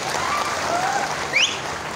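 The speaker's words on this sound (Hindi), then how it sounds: "जोरदार तैयार तालियां बना" Dense applause from an audience at a political speech, a steady wash of clapping that holds evenly for about two seconds with no voices over it.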